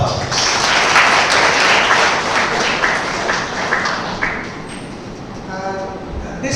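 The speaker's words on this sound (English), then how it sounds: "Please give a big round of applause." An audience at a university program breaks into broad, loud applause that carries on for several seconds before thinning out, with a speaker's voice returning faintly near the end.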